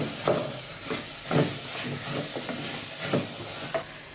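Chana masala curry is stirred in a pan, soft sizzling under a few distinct scraping strokes of a spoon, close and moderately quiet.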